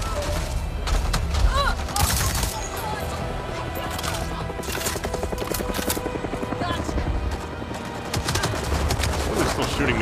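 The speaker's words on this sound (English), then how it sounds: "Oh, they're still shooting me." Rapid bursts of gunfire and sharp explosive impacts in the video game Avatar: Frontiers of Pandora, dense and continuous over a busy game soundscape.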